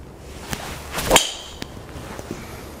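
A single sharp, loud crack rings out, a crisp strike of a Mizuno ST190 or ST180 driver on a golf ball against a quiet outdoor background.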